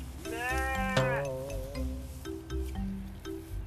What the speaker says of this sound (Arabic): صوت خروف